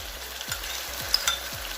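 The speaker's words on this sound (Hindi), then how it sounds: "इसको 4 से 5 मिनट हल्की आंच पे हम भून लेंगे। अब हम इसमें लहसुन शामिल कर देंगे।" Garlic fries in a pan with chicken for biryani, a soft continuous sizzle broken by three or four low scraping stirs at a steady pace, close and fairly quiet, with no talk.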